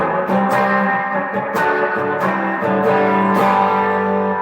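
An electric guitar driven through an Ibanez Tube Screamer overdrive pedal plays a run of picked chords and notes with gritty, rock-style distortion, each attack sharp and close, steady and loud without any voices.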